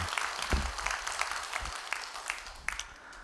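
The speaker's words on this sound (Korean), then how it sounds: "박수 한번 해주셔요" Congregation applause during a dawn prayer service at a Korean church, a brief scattered patter of clapping with a few louder claps standing out, moderately near and not very loud.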